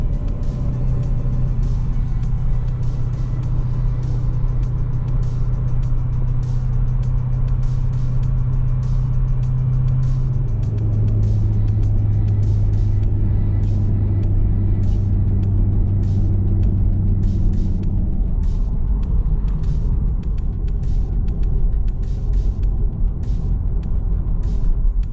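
A 638 hp supercharged C6 Chevrolet Corvette ZR1 heard from inside the cabin on a mountain drive, a loud, steady engine drone with a low tone that shifts in pitch partway through, alone with no voices.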